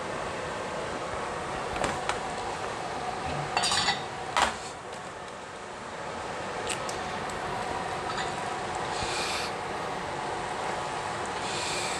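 Noodle stir fry served from a pan into a bowl, with a few clinks and scrapes of a utensil against cookware early on, then a faint steady hiss with occasional light taps.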